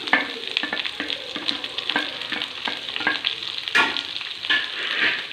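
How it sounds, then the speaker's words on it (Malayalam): Crushed shallots, garlic, ginger, green chilli and sliced onion sizzle steadily in a hot pan for a Kerala-style beef fry, with frequent scraping stirs from a spoon heard close up throughout and no talking. "ഇതെല്ലാം നന്നായിട്ടൊന്ന് ഇളക്കി ഒന്ന് വഴി വയ്ക്കുക"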